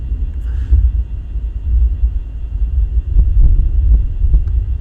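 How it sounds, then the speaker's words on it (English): Low thunder rolls through a Florida storm, a steady deep rumble that swells and recedes across the whole stretch, distant and continuous with no talk over it. "Do you guys hear that thunder?"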